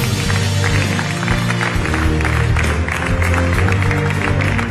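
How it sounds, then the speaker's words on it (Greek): Studio audience on a cooking competition show clapping to welcome a Michelin-starred chef, a dense, steady round of applause filling the room throughout. "Ας καλωσορίσουμε λοιπόν με μεγάλη χαρά και με ένα καλό χειροκρότημα τον Αστέριο Κουστούδη."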